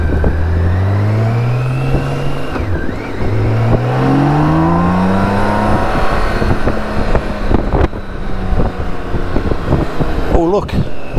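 A BMW K1600 GTL motorcycle runs fast on the autobahn, its six-cylinder engine climbing through rising revs and gear changes beneath heavy, constant wind roar, loud and close throughout.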